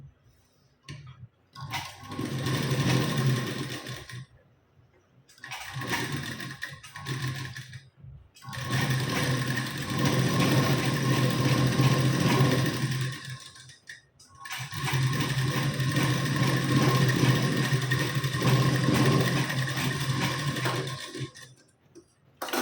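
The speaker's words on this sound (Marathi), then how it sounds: "सरळवरती सरळ ठेवून घ्यायचं आणि आपल्याला खालून शिलाई द्यायला सुरुवात करायची" Sewing machine stitching the lining and sleeve of a blouse, running in several long steady bursts of rapid mechanical whirring separated by short pauses.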